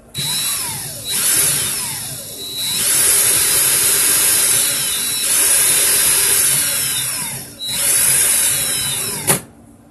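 A power drill running in reverse to pull wire whirs in several long bursts with rising and falling pitch, stopping and restarting, close and loud, with no voices.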